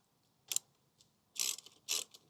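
Ratcheting 13mm socket wrench snugging the steel nylock bolts on LegPegz foot pegs fitted to a Royal Enfield Himalayan 450 motorcycle: a short click, then two longer bursts of rapid ratchet clicks, close and fairly quiet.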